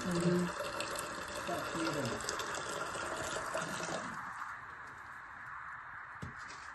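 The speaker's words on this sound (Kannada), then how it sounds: "ಖಾರದ ಒಳಗೆ ಸಪ್ಪೆ ನೀರು ಮಿಕ್ಸ್ ಮಾಡ್ತಾಯಿದ್ದೀನಿ." Plain water is poured into a hand-ground spice paste for a village-style greens curry, a continuous splashing trickle under a voice talking early on that fades to a quieter flow.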